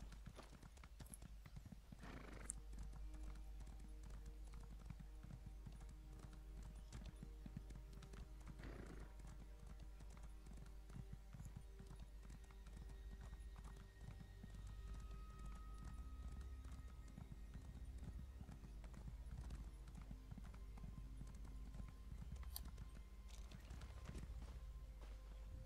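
Horse hooves clip-clop steadily in The Elder Scrolls Online as a mount trots along, with a couple of whinnies and faint in-game ambience; the sound is fairly quiet throughout.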